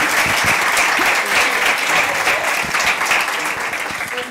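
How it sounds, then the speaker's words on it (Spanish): Audience applause at a talk with two authors discussing a book and role-playing storytelling, loud sustained clapping from a crowd filling the whole moment, close and dense. "Merece un aplauso esto"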